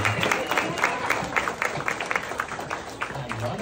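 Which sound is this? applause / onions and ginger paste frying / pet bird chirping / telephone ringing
applause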